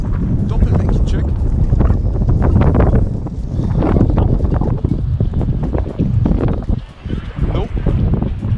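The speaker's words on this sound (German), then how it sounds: "Der Wind ist echt schlimm." Strong outdoor wind buffets the microphone in a loud, constant low roar that gusts and briefly dips, with muffled talk beneath it.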